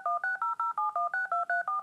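A telephone being dialed: a rapid, evenly spaced run of about ten clear dual-tone keypad beeps, each short and steady, heard alone with nothing else around them.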